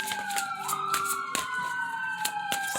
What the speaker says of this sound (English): So sorry for the sirens.